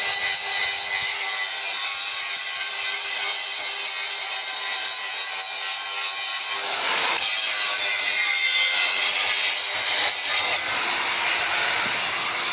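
Steady, continuous rasping of a saw cutting through wood, loud and close, with brief pauses in the stroke and no talking.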